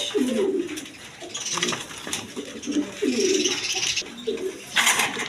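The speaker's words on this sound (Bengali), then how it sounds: "এইখানে এক পেয়ার গোল্লা কবুতর আছে রাজগোল্লা কবুতর" A pair of big Rajgolla pigeons coo at close range in a series of rolling, throaty calls with short gaps, over background chirping and ambient noise at a pigeon market.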